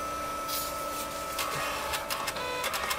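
Kodak EasyShare CX7530 camera printer dock feeding paper and printing, a steady mechanical whir with clicks and brief ratcheting bursts that grow busier in the second half.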